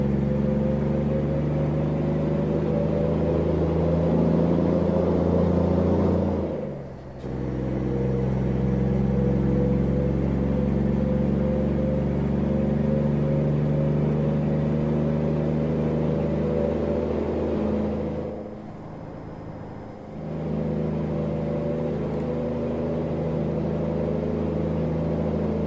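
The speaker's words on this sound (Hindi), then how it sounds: "लेकिन इस ट्रक की आवाज बहुत प्यारी लगी मुझे गाइस" A Kenworth K200 truck engine in American Truck Simulator holds a deep, steady drone with strong low harmonics. It briefly drops away twice for gear shifts before settling back into the sustained rumble, with no speech.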